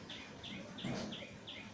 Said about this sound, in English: this violent bird attacking my little cat